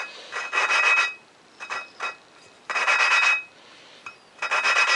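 A Suzuki TL1000 motorcycle valve is twisted by hand against its seat with grinding compound, making close, gritty rubbing strokes in separate bursts with short quiet gaps between them.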